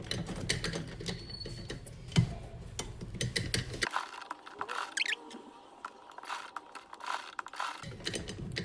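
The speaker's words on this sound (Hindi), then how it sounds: "और सिलाई लगा देंगे।" A sewing machine stitches a cord onto the back of a blouse, giving quick mechanical clattering bursts with brief stops and handling clicks, fairly close and moderately quiet.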